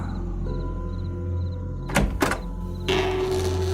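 A door opens in a horror story soundscape, with a pair of sharp clunks and a scraping latch, followed by a low sustained hum over steady background drone.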